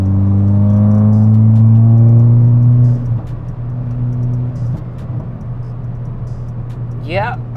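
Volkswagen MK6 GTI engine pulling hard through a turn, a loud rising drone that cuts off abruptly, then settles into a lower rumble with a quick whine near the end.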